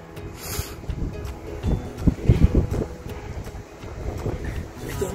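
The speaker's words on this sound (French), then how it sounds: "il y a toujours autant de vent" Gusty wind at a hilltop overlooking a city in Andalusia buffets the microphone in uneven low rumbles, rising and falling throughout with no other clear sounds.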